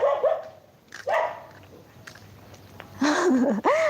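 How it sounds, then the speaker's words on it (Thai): A house dog barking loudly at visitors during a property viewing, several sharp close barks with whimpering yips between them, near and alone with no talk. "เนี่ยน้องหมาโอ้เห่าเก่งมาก"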